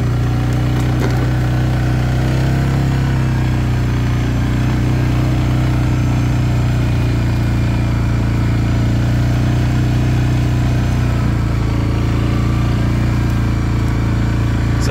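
A 2022 Suzuki KingQuad 750 ATV engine drones steadily and loudly up a steep mountain trail bend, a constant low rumble close by throughout with light rattles and no talk.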